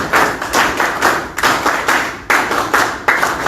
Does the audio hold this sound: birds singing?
no